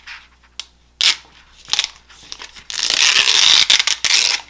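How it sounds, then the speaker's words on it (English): A plastic Cricut Infusible Ink transfer sheet being peeled and handled, close crinkly crackling and tearing bursts that build into a sustained rustling peel near the end. "Now, this triangle piece in the middle, that is the piece that we're going to peel away."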